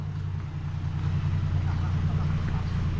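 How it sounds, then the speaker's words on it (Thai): A trailer truck loaded with rocks rolls up to a warehouse entrance, giving off a low, continuous engine rumble at moderate distance with no clear change in pitch. "รถพ่วงมาแล้ว รถพ่วงมาแล้วพี่น้อง"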